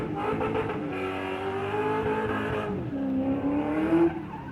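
A ute does a burnout at a burnout competition, its engine roaring hard at high revs alongside tyre squeal, with the pitch wavering and a louder burst near the end.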